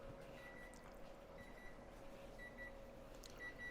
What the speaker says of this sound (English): there's the timer